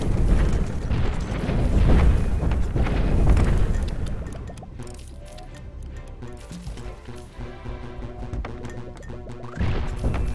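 Booming cannon blasts from the artillery video game Cannon Brawl, with several loud heavy impacts and crashes in the first seconds, then quieter scattered thuds and game sounds over a steady backdrop.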